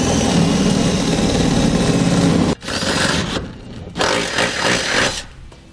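A drill bores through a vehicle's steel frame with a step bit, enlarging a hole toward half an inch for a trailer hitch receiver: a loud, steady grinding whine that breaks off, then resumes in shorter bursts.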